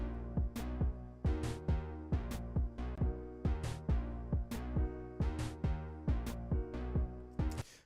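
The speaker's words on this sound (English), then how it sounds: "we took it and we used it in our percussion to make a snare sounding percussion sound" A glitchy, snare-like percussion loop designed in Reactor plays as a fast, punchy pattern of sharp hits over a sustained tonal bed, steady and rhythmic with no talking.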